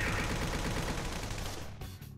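Rapid gunfire in the Persona 5 Royal video game: a dense, continuous burst of shots that fades slightly toward the end of the short clip.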